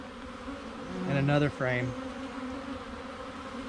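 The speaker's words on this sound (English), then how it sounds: "Just take all the bees." Honey bees buzz around frames in a queenless hive, a steady low drone running throughout while someone speaks briefly in the middle.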